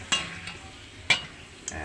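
Old store-bought papad fries in hot oil on a rainy evening. A few sharp, close spits and crackles burst out at irregular moments over a faint background hiss.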